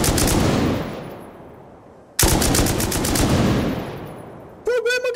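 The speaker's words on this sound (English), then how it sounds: "He's shooting me through the floor" Loud rapid automatic gunfire from the video game Rust, fired during a fight on the oil rig: two sustained bursts of dense shots, then a brief pause, then a few sharp separate reports and a voice at the very end.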